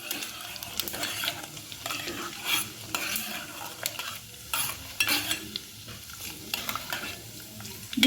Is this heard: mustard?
yes